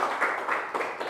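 Brief, moderate clapping from a small audience at a teaching practice session, a short run of uneven hand claps without talk.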